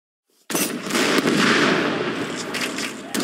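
Bombard cannon fire in Age of Empires 3, a sharp blast followed by a dense, sustained roar of battle gunfire and crackling explosions that stays loud for nearly three seconds, with a second hit near the end.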